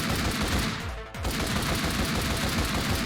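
Fully automatic gunfire in the video game Elevated Justice during a playtest, a loud, continuous close-range rattle of rapid shots with a brief pause near the one-second mark, then sustained fire, no talk.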